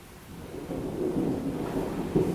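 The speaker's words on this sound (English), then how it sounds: "Is that thunder? It's snowing and thundering." Thunder during a snowfall rolls as a low, continuous rumble that swells slightly partway through, heard alone at moderate loudness.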